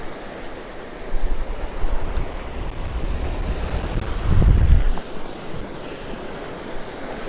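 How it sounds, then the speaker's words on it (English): Strong onshore wind of 30 mph or more roars across Cromer Beach while waves break close by, a steady buffeting rush that swells into a heavier gust near the middle. No voices. "The wind's like literally straight in my face. Must be 30 mile an hour plus now."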